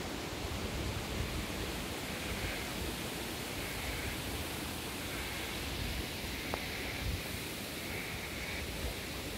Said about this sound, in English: beautiful creek.